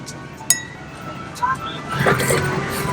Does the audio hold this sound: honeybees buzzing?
no